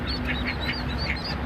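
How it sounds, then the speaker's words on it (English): Ducks quack in a rapid series of short calls against a dense noisy background, fairly faint and without talk. "Oh, they're ducks."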